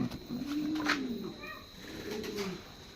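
Pet birds coo inside a cage, including Indonesian and barless doves, with low, rolling coos repeating across the moment over a faint background hum.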